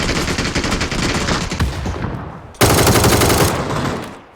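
Rapid automatic gunfire in the video game PUBG, with loud dense bursts that fade briefly and then resume sharply and close, no talking.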